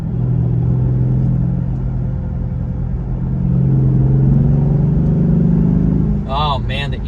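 A Chrysler 300C SRT8 engine drones steadily from inside the car, its intake note swelling and easing as it revs, loud and close, with a voice briefly cutting in near the end.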